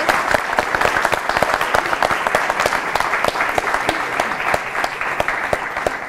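Audience applause during a debate event, dense rapid clapping with distinct sharp hand claps standing out, steady and sustained, loud and fairly near, with no talk over it.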